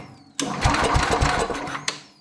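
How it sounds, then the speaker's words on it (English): A vintage Sears Suburban 12 lawn tractor's starter solenoid snaps with a sharp click, then a rough, pulsing electrical chatter runs for about a second and a half before a second click cuts it off, close and fairly loud. "it's snapping the solenoid"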